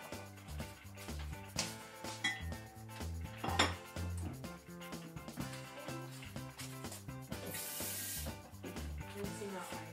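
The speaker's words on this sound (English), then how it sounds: "Rinsing out my bowl." Water runs and splashes while a ceramic bowl is rinsed out, with clinks and knocks of dishware against a sink, close and fairly steady over the whole stretch.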